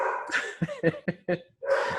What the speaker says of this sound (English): if y'all can hear Riley, we have a dog here